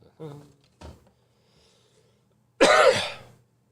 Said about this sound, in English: let's do this before I cough myself to death